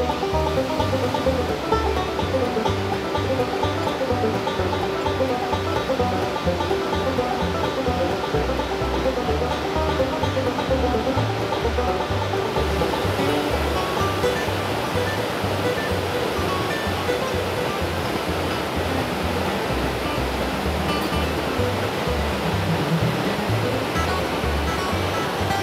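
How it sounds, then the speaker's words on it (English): Lost Creek Falls, a rocky waterfall in White County, Tennessee, roars in a loud, steady, unbroken rush of falling water heard from near its base, with no voices. "Isn't this a beautiful waterfall?"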